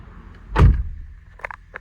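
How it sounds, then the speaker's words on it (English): The door of a 2016 Kia Soul opening and shutting: one solid close thump followed by a few lighter latch and handle clicks, close by with no talking. "open and close the door"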